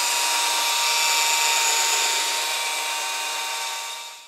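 A power drill whines steadily at high speed as its bit bores out the cork handle of a fly rod, a continuous close buzzing tone that fades slightly toward the end.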